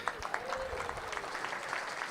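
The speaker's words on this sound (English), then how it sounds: "we'll give you a big round of applause" A room applauds the USS Tucson crew at a Rotary Club meeting, with scattered clapping and crowd murmur at a moderate, distant level.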